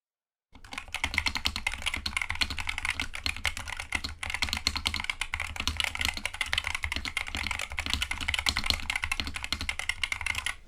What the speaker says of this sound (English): Now this is the part where we do a sound test.